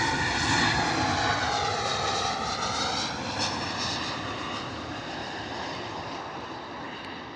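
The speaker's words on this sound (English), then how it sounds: "Ryanair coming in from Prague, Boeing 737 MAX 8." A Ryanair Boeing 737 MAX 8 jet comes in to land at Bristol Airport in wet, stormy weather, its engines giving a loud, steady roar with a sweeping whine that slowly fades as it passes.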